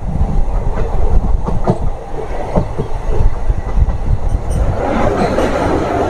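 The 03020 Azimganj–Krishnanagar City passenger train crosses the Nasipur rail bridge over the Bhagirathi river, a loud, close rumble with rhythmic clickety-clack of wheels on the rails and a brief metallic squeal, heard from aboard without talk.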